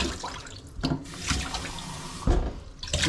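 Fresh tap water runs and splashes at a sink while a Nescafé mug is rinsed, a steady close wash of water with a few louder splashy bursts.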